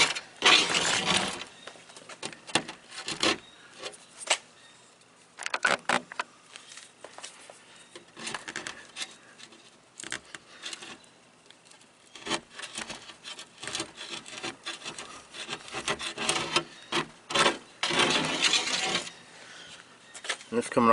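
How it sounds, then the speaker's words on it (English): A putty knife scrapes and cuts old sealant off the plastic liftgate of a 2007 Jeep Wrangler JK, giving irregular rasping strokes in bursts with short pauses, close and fairly loud. "Now I'm just going through with my putty knife and I'm cutting the sealant"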